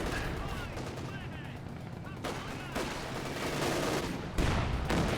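Gunfire in a Company of Heroes 2 battle: dense crackling bursts of small-arms and machine-gun fire with heavier booming impacts, continuous and fairly loud, with faint commentary-like voice beneath.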